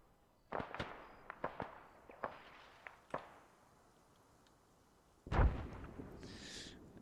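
In Arma 3, AI soldiers lay down suppressing gunfire as a series of sharp, distant shots in irregular bursts. A louder, heavier blast with a rumbling tail follows near the end.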